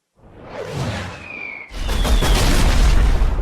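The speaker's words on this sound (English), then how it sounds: "Drops the bombs." Bombs drop in Pokemon Platinum: a rising whoosh with a thin whistle builds for over a second, then a loud booming explosion bursts in and rumbles on heavily to the end.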